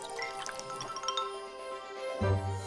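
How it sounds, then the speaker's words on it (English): Milk poured into a bowl while getting ready for school, a soft trickling and dripping of liquid, with a heavier splash near the end; no talking. "Pour milk."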